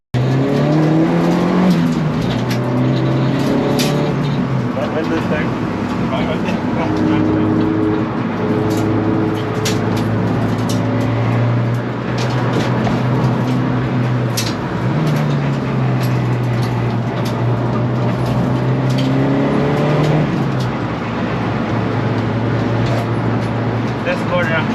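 A 190 bhp track car laps Knockhill Circuit with a passenger aboard, its engine droning loudly and steadily throughout, rising and falling through gear changes, with brief tyre squeal and a voice speaking inside the cabin.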